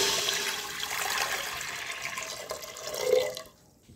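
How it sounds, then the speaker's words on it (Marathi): Water pours steadily from a small pot into a pressure cooker for a few seconds, a bright gushing splash that swells briefly and then cuts off into near quiet. "कुकरमध्ये आपण 1 तांब्या पाणी टाकू"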